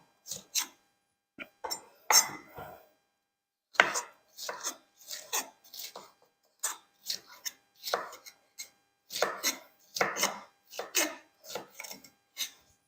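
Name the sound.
knife chopping peppers on a board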